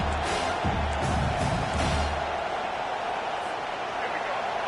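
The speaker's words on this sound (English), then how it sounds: "This crowd, full throat, splitting the eardrums and letting them know it's going to be a long day." Stadium crowd in the College Football 25 video game roaring as a broad, steady wash of noise that holds loud from start to finish, with low rumbling bursts in the first couple of seconds.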